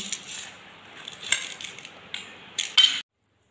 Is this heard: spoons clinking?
yes